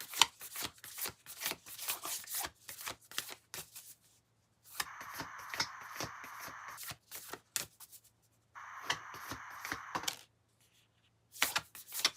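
A deck of reading cards is shuffled by hand in quick riffling bursts and sharp clicks, with a few short pauses and a couple of longer, denser shuffles, close and alone.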